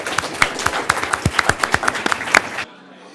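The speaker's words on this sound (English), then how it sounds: "please join me in another round of applause for our panelists" Audience applauding panelists at a symposium on US-Taiwan relations, a smallish, sparse round of distinct claps in a quick, uneven rhythm, close and clear, ending abruptly.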